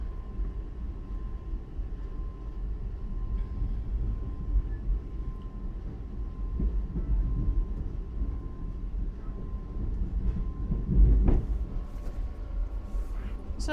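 Reading & Northern RDC train departing Reading Outer Station, a low steady rumble of diesel engine and rolling wheels heard from on board, with a brief louder thump partway through.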